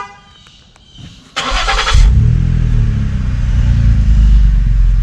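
A 2015 Ford Taurus SEL fitted with Magnaflow mufflers and resonator cranks with a short, bright starter burst, then catches and settles into a loud, steady, deep idle rumble that continues to the end.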